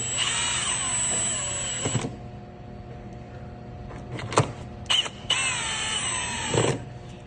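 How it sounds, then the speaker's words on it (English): A power drill drives screws to fit a SkyCentrics cellular EcoPort module to an AO Smith heat pump water heater, giving two close, whining bursts of about two seconds each, with a few clicks and taps between them. "and now you can screw these in"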